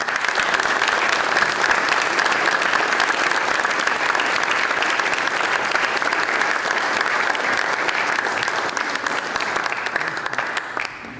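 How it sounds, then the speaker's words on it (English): Steady, sustained applause from a large audience at a police and firefighters breakfast, thanking the volunteers and friends. The dense clapping holds for about ten seconds before tapering off at the end. "So can we give all those people a round of applause?"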